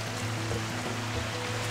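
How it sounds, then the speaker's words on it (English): Waterfall in the woods in Japan, a steady broadband rush of falling water, continuous and moderately loud with no voices over it. "I just found the waterfall."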